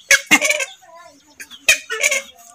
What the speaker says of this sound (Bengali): খুবই শান্ত প্রকৃতির কালিম পাখির জোড়া